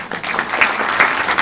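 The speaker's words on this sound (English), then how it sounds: "Can we have a round of applause, please?" Audience members at a technology conference clap together in a short, dense burst of applause that fills the hall, loud and close, with no voices over it.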